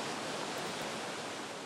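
Steady, dense rush of spring water gushing out of rocks, a continuous broadband roar with no pauses, like fast-flowing water nearby.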